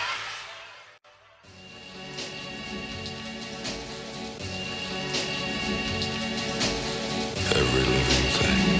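Rain falls steadily on a surface, a dense continuous patter with scattered louder drops that builds slightly after a brief quiet gap near the start, heard without voices.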